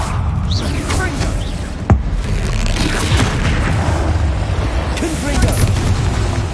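Booming blasts from the Confringo spell in Hogwarts Legacy on PS5 roll on under constant combat noise, with one sharper hit near the start, while a voice talks over the fight.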